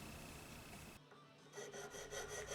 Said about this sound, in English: I found the file that works best for this job.